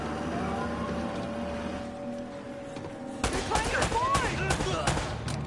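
Gunfire erupts in Uncharted after a few seconds of low ambience: a burst of sharp, overlapping shots, fairly close and loud.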